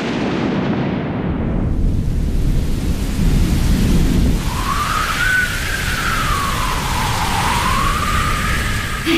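A long, heavy rumble of thunder from a cumulonimbus storm cloud rolls on at close range beneath steady rain, joined midway by a rising and falling whistling wind tone.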